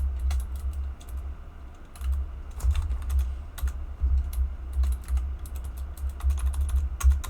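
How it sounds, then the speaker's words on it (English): Computer keyboard being typed on while writing C# code, bursts of quick clicking keystrokes in irregular runs with short pauses, close and clear over a low steady hum, no talking. "Unless I'm just typing it wrong."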